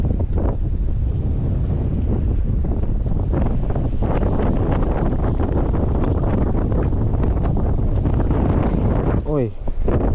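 Strong wind gusting across a fishing pond, loud rumbling buffeting on the microphone that runs throughout with brief rustles and handling knocks near the end.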